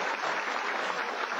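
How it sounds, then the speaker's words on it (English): A comedy juggling show audience applauds a juggler, a steady wash of many hands clapping at moderate volume with no break over a short stretch. "Give Trevor a big round of applause."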